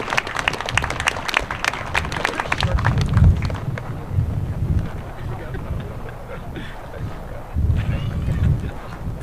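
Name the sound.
audience applause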